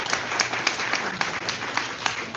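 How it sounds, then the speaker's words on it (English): Audience applause at a live astronomy talk night, a steady round of clapping with scattered sharp claps, moderately close and continuing evenly throughout with no voices over it. "a quick round of applause as Chris comes up"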